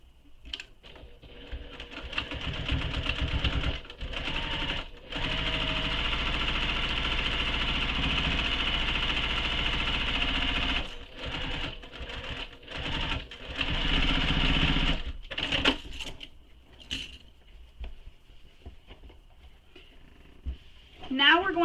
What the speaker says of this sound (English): starting at the dart seam, sew all the way across to the other dart seam